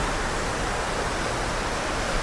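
A low waterfall, roughly 20 to 30 metres high, pours in a dense, continuous roar of falling water. The sound is loud and close, steady from start to end, with no voices.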